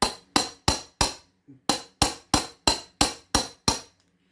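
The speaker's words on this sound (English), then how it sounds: "You're going to hammer." A hammer drives a shaft onto a Peg Perego John Deere electric toy tractor's trailer on carpet: about a dozen sharp, evenly spaced blows close up, with one softer tap midway and a brief ring after each strike.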